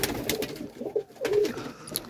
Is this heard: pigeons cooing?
yes